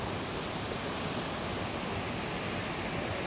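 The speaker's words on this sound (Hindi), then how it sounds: "वो देखे गाइस कितनी स्पीड है पानी में" Fast-flowing water of the Sharda River at the Banbasa barrage dam gives a steady, dense, unbroken rushing roar that holds at even loudness throughout, with no voices.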